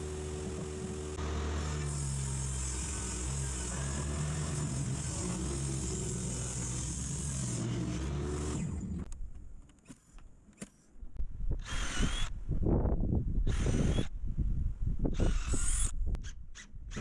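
A power saw cuts a 45-degree angle through leftover plywood for a French cleat bracket, a steady loud whine running about eight seconds, then after a brief pause a second burst of several short, choppy cuts and bumps.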